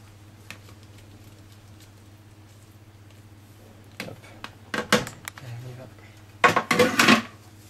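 A spatula folds flour and baking powder into white chocolate vanilla cake batter in a bowl, starting quietly under a steady background hum, then bursts of scraping and knocking against the bowl that grow louder toward the end.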